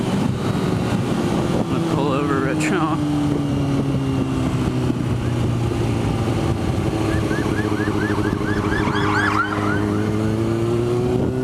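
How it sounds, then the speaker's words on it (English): A police siren wails and sweeps up and down, approaching from behind amid heavy traffic noise heard from a motorcycle, growing more prominent midway through under steady road rumble. "I think there might be a police chase coming up behind me."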